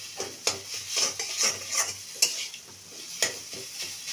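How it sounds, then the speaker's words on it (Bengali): Ground chana dal paste frying in oil, a quiet close sizzle broken by rhythmic scraping strokes of a utensil against the pan, steady and unaccompanied by talk. "ডাল বাটাটা দিয়ে দিচ্ছি তেলের মধ্যে। এই ডালটা একদম ঝরঝরে হয়ে যাবে ভাজতে ভাজতে।"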